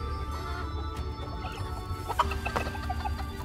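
Chickens in the video game Dungeons 4 cluck in short, repeated bursts over a low steady game ambience, fairly close and moderate in level.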